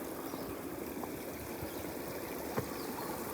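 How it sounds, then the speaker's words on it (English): Water trickles steadily through a small garden water feature beside a solid rock bridge on a path, a constant close splashing with a few soft drips standing out. "Nice little water feature here."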